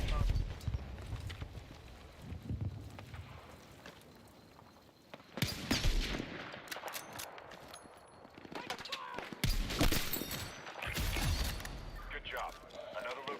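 Video game gunfire, with rattling bursts and single shots that grow louder in the second half, partly under talk.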